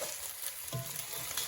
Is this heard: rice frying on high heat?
yes